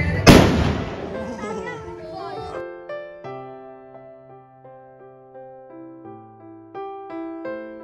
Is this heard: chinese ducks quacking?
no